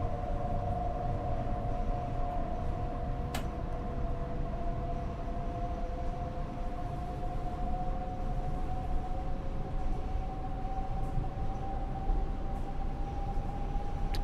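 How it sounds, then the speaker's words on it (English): A running train whose drawn-out, slowly rising whine is likened to a Japanese train, a steady tonal hum over a constant rumble with a brief click partway through, and no talk. "this train sounds like a 395 of Japan train"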